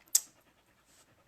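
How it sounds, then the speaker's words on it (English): A dog pants nearby in a quiet indoor room, one sharp breathy huff followed by a fainter exhale, with nothing else around it. "there's Ryder panting"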